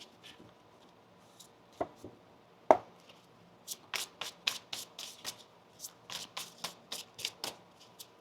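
Tarot cards being shuffled by hand in a quiet room, a run of crisp riffling bursts in quick rhythm following a few isolated taps and soft handling sounds.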